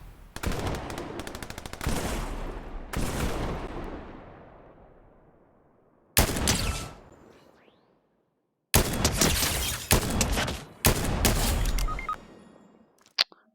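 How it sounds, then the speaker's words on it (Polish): Close, loud bursts of automatic gunfire from a Fortnite match crackle in rapid runs, each burst trailing off before the next, with brief silent gaps between volleys. "O, ktoś tu strzela."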